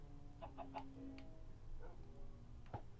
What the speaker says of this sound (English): Hello, Mr. Chicken.